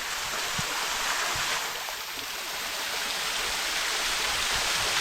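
Dharagiri waterfall and stream at Ghatshila rush steadily, a close, continuous broadband roar of falling water with no break.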